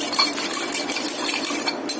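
Rice is stirred in a pot for chicken dum biryani, giving quick scraping and light clinking of a utensil against metal, close and continuous without talk.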